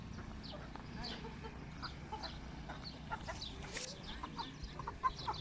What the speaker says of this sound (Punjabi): ਕੁੱਕੜ ਵੀ ਆਏ ਨੇ, ਬਤਕਾਂ ਵੀ ਆਏ ਨੇ, ਸਾਰਾ ਕੁਝ।